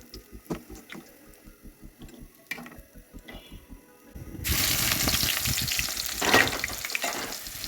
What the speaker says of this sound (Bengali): ডালের বড়িগুলো বেছে নেব বেশি কড়া করে ভাজবো না একটু গোল্ডেন করে বেজে নেব